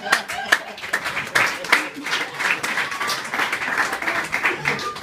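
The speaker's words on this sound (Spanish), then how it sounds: "Non aplaudáis, tío." Applause and clapping fill an indoor gathering, a steady spatter of hands lasting throughout with scattered louder claps, while voices murmur beneath it.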